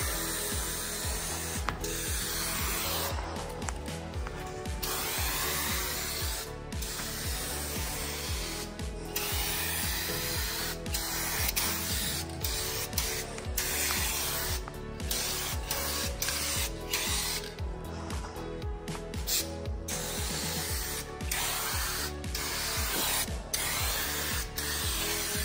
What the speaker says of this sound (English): This one's spraying crazy wide.